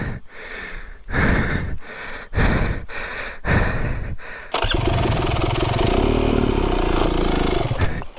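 An Indian motorcycle on a dirt road along a hard trail, the engine revving in repeated loud surges with brief pauses, then a sustained steady roar as it pulls away.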